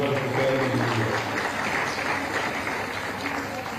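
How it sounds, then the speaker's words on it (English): An audience at a women's college youth parliament event applauds the faculty: dense, steady clapping from a crowd that holds for several seconds and slightly eases off. "we should give a big round of applause to the faculty as well"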